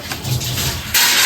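A kitchen mixer grinder whirs close by while chicken is prepared, with a low rumbling motor note that suddenly jumps to a louder, harsher grind near the end.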